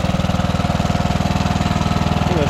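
A 2009 Craftsman YTS 3000 lawn tractor engine, fitted with a new camshaft, idles loud and close with a rapid, even pulsing thump from the exhaust.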